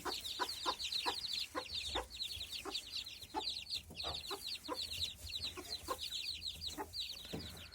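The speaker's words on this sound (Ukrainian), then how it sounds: "Ось вивела квочка курчат." A mother hen clucks in quick repeated bursts close by, with a constant chorus of high peeping from her newly hatched chicks running underneath.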